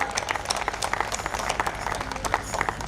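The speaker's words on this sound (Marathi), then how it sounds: "जोरदार टाळ्या वाजवत आपण यांच्यासाठी एकदा." An audience claps for bhajan singers at a Hindu community gathering; the applause is fairly loud, with scattered individual claps that stay steady across the short stretch.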